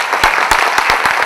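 Brief burst of audience applause for two exam toppers at an interview event, a loose flurry of close, sharp hand claps at an irregular, quick rhythm.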